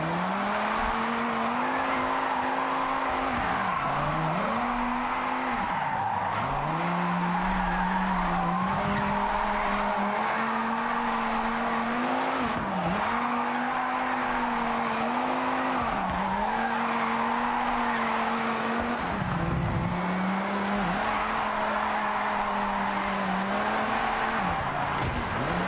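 In Forza Horizon 6 a car throws e-brake drifts, its engine droning and dipping in pitch as tires squeal and skid in long repeated slides, loud and continuous with no talk.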